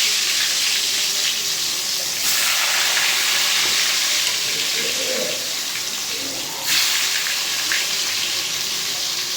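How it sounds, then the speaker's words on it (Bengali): Slices of pointed gourd slid into hot oil, a loud, dense hiss that swells as they go in and keeps crackling steadily for several seconds, with a second surge later on. "আর তেল গরম হয়ে গেছে, পটলগুলোকে ছেড়ে দিচ্ছি।"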